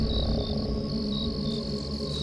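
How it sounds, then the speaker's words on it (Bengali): Crickets chirp from bushes at the edge of an open field at night, a steady, faint, high trill over a quiet background with no voices. "শুধু আশেপাশের ঝোপ থেকে ঝিঝি পোকার ডাক শোনা যাচ্ছে"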